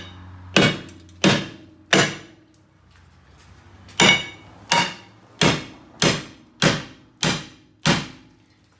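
Heavy hammer blows strike a seized brake rotor on a 2011 Honda CR-V, about ten sharp metallic bangs in an uneven rhythm with a short pause, ringing briefly after each hit.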